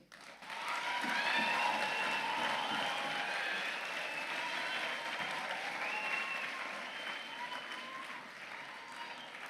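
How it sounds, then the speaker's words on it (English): A ceremony crowd applauds at length after names are read out, dense sustained clapping that swells quickly and holds steady, with faint whistles or cheers mixed in. "Ladies and gentlemen, let's give them a round of applause."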